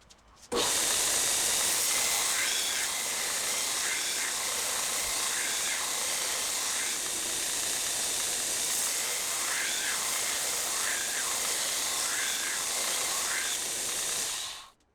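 Steady grinder whine as a knife bevel is ground up toward the cutting edge in a workshop, a continuous loud hiss and hum running unbroken for about fourteen seconds with faint tonal warbles.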